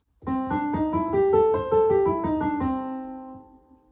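A major blues scale played note by note on a melodic instrument, about eight evenly spaced tones stepping upward and back with a clear, ringing attack, finishing on a held note that fades out. No one talks over it.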